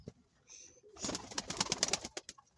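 A bird calls close by with a rapid burst of fluttering, chattering notes after a brief quiet tone, fairly faint overall.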